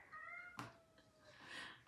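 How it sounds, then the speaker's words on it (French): A house cat cries at the door, giving one drawn-out plaintive meow followed by a short knock or thump and a second, rising wail. The sound is faint and there is no talking over it. "C'est mon chat qui pleure."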